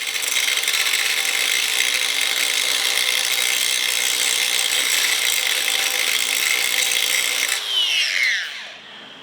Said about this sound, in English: I'm gonna basically contour that using this grinding wheel